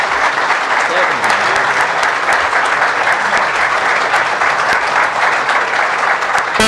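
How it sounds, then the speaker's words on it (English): Applause from the audience at a public meeting on local police control: loud, dense clapping from a crowd lasting several seconds at a steady level, with a few sharper claps on top. "now we can all applaud this because they did a great job"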